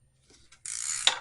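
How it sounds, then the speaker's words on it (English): An 8mm oil filter cover bolt coming off a Gen 3 Kawasaki KLR650 motorcycle: a couple of faint clicks, then a short, close, rapid ratchet whir ending in a sharp click. "I'm going to pop the oil filter cover off."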